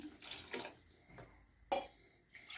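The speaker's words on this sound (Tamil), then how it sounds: "இப்போ இதில் அந்த புளியை நம்ம ஊற்றிடுவோம்." Tamarind water splashes briefly into a boiling pot of tomato rasam, a few quick pours and clinks, close and fairly quiet.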